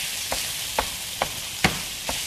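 Breakfast sausage fries in a pan with a steady sizzle, broken by about five soft periodic scrapes or stirs, close and fairly quiet, with no talking.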